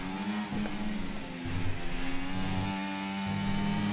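Race car engine from the F1 23 video game, a steady droning whine with shifting harmonic pitch as the car runs, loud and continuous with no talk.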